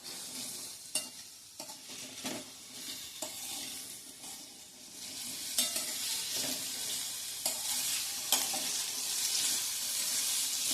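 Cucumber sizzles as it is sautéed and stirred in a pan for a fasting-style ragda patties dish, with steady frying hiss broken by repeated scraping stirs, close up and with no talk.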